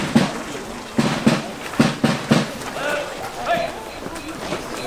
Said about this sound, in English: we will fire a volley of musketry and a celebratory cannon shot